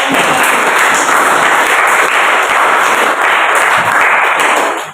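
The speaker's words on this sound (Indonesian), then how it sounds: "Tepuk tangan untuk" Loud, dense clapping from a university classroom audience during a teaching practice assessment presentation, sustained and even for the whole stretch with no talk.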